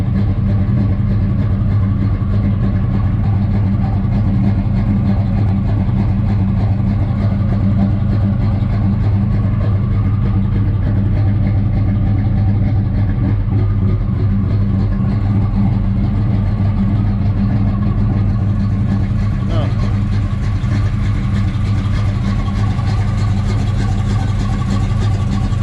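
A small-block Chevrolet Nova engine idles after a cold start, a loud, steady, low rumble holding close and continuous throughout with slight roughness in its beat.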